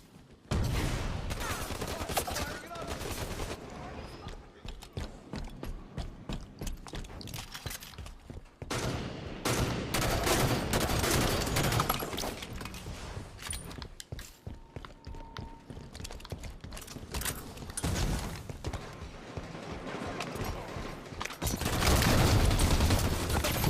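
Assault rifle fire in a Halo multiplayer match, rapid bursts of shots repeating in clusters across the stretch with brief pauses, loud and close, alongside footsteps and movement.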